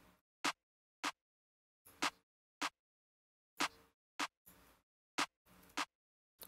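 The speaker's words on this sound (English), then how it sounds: "there's a clap and then the snare layered on top of it" Sharp, punchy percussive hits with crisp noisy tails, struck one at a time with short gaps, layered clap-and-snare drum samples with no effects, repeating in a loose pattern in a hip-hop beat.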